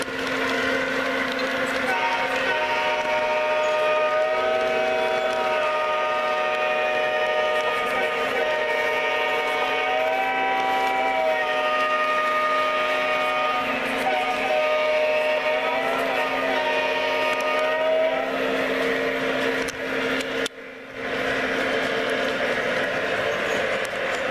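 A model Union Pacific Legacy diesel genset switcher locomotive runs steadily nearby, a sustained droning motor hum with layered tones, continuous for over twenty seconds before a brief dropout near the end.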